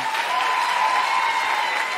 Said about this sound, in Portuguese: Por favor, bata um palma pra Carolina